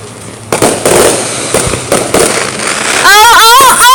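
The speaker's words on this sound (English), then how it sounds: "A firework that lit up right over my head!" Fireworks burst right overhead in a dense string of loud cracks and booms, ending in whistling, warbling rising tones, with a person shouting excitedly close by.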